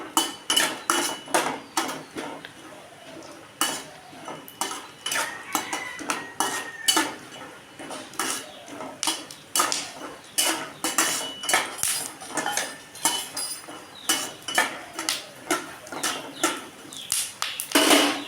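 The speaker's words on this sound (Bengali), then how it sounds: "বাদামটা ভালো করে ভেজে নিতে হবে।" Peanuts being fried and stirred in a pan for a flattened-rice pulao make rapid, rhythmic metallic scraping and clinking of a spatula against the pan, close and continuous with no talking.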